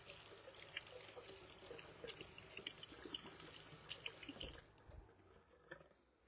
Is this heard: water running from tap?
yes